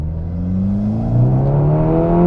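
Seat Leon Cupra R engine pulling hard in second gear, a steady rising drone with harmonics climbing in pitch as revs build, loud and close from inside the car with no talk.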